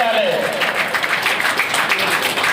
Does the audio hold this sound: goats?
no